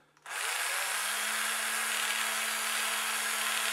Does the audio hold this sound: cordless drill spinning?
yes